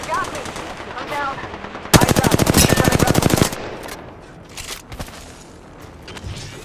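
Rapid automatic gunfire in a first-person shooter game: a loud, dense burst of shots lasting a couple of seconds, followed by a few scattered single shots and lower game noise.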